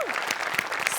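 A theatre audience at a comedy stage show breaks into a short, dense burst of clapping, loud and close, lasting about a second.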